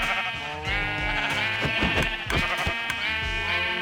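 Repeated Minecraft sheep bleats overlap one another in a steady stream, close and loud, with a slightly synthetic, game-like quality and no talking.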